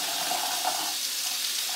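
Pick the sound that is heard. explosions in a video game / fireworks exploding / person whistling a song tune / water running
water running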